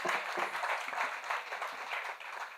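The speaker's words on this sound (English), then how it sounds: "Let's give them a round of applause again, please." An audience at an independence opening ceremony gives the Cicero Singers another round of applause, soft, fairly close clapping that flutters on briefly without voices.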